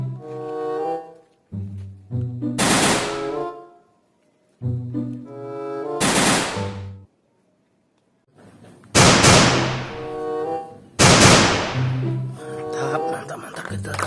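Toy pistol fires a series of sharp electronic gunshot effects, each a bright burst with a decaying tail, separated by short tonal beeping sequences and pauses, loud and close.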